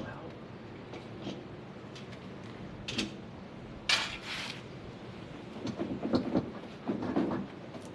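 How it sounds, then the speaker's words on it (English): A Volvo 740 bumper slides off the car body in short scraping, creaking bursts, the loudest near the middle and again toward the end, with faint background noise between. "So now the bumper should just slide off."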